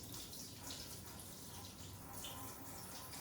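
Water runs steadily from a newly fitted bendable kitchen sink tap, a faint continuous splashing stream into the basin with no break.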